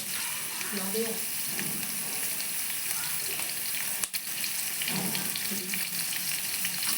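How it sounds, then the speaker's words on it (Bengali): Onions sizzle steadily in a hot pan while khichuri is cooked during rain, a dense, even frying hiss with a sharp clack midway. A faint voice murmurs underneath. "পেঁয়াজ ভাজার যে একটা চটচটে শব্দ, সেটা আমার ভীষণ ভালো লাগে।"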